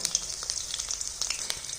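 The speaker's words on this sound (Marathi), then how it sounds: "आपण इथं तेलामध्ये चांगलं असं फ्राय करून घ्यायचं वांग" Eggplant crackles and hisses as it fries in oil, a brief, constant sizzle with small sharp pops.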